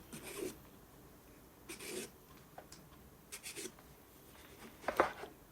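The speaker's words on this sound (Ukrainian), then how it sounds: "Баклажан миємо, відрізаємо хвостики і чистимо." An eggplant is peeled in a home kitchen, with short scraping rasps of the peeler against the skin coming in scattered strokes, close and fairly quiet.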